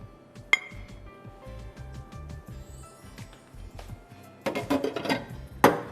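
Dishes, glasses and cutlery clink and clatter as they are washed in a kitchen sink, with scattered bright pings building to a denser rattle near the end, close and clear.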